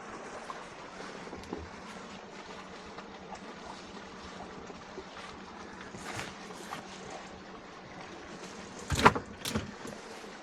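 Boat engine running in a low, steady drone that stays faint and even throughout, with one brief clatter near the end.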